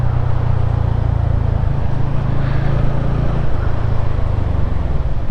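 Steady low engine drone and broadband traffic rumble heard from a motorbike moving through a jammed city street on the road between Krui and Bandar Lampung in Sumatra, loud and continuous with no talk.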